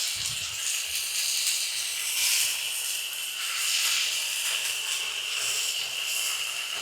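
Canned peeled tomatoes sizzling with onion and carrot in a pan, a continuous bright, even hiss of frying throughout, fairly loud and without speech.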